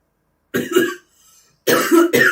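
Two sharp coughs from one person, close and fairly loud, with a short faint sound between them and a quick double burst at the end.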